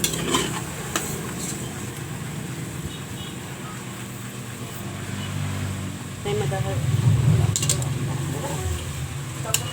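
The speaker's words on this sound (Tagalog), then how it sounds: "Igisa lang natin mabuti yung chicken." Chicken sautéing in a pan for tinola, with low sizzling and the clatter of stirring utensils running throughout, louder near the end, while a person talks over it.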